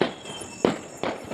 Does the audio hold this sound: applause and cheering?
no